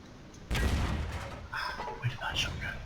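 The ISU-122S, a Tier 7 Russian tank destroyer in World of Tanks, fires one loud, heavy cannon shot that rumbles on and fades. Game sounds and a voice follow.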